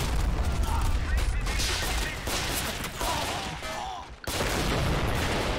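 Dense battle gunfire in the war strategy game Army Men of War, including shots from a Leopard tank, with sustained overlapping shots and blasts and a brief dip near the end.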